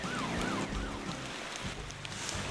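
A police car siren wails in the Motor Town driving game, rising and falling in a steady sweep over constant engine and rain noise, fairly close and sustained through the whole stretch.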